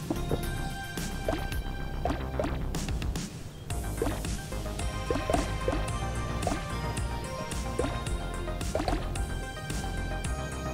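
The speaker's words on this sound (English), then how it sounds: "Oh, I filled this with water." Water filling and trickling inside the video game Donut County, heard as a steady run of dripping, gurgling liquid with small plinks, under layered game music and effects throughout.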